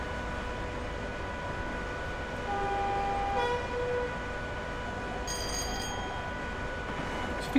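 A Class 85 electric locomotive in Train Simulator Classic runs along the Trent Valley with a constant rolling rumble and steady tones, a short two-note horn sounding midway, no voices.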